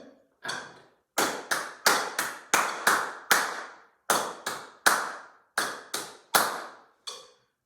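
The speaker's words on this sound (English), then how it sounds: "taking sections from my pieces and clapping the rhythms, perhaps with the metronome" A single person claps out the rhythm of a piano piece, crisp close handclaps in an uneven pattern of short and spaced beats, heard alone in a quiet room.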